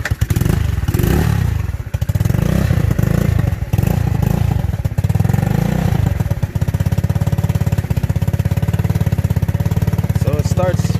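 A TaoTao Racer's small engine starts and runs loudly and steadily, a close, continuous rumble with light clatter and some revving, its carburetor's rich-lean mixture set a little low.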